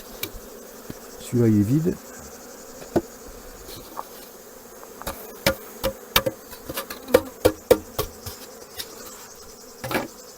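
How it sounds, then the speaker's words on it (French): Honeybees hum around hive frames while small nuclei colonies are combined for overwintering, the buzz rising briefly and loudly near the start, with sharp wooden knocks and clicks scattered throughout and a short spoken remark. "il y a plein d'abeilles dedans"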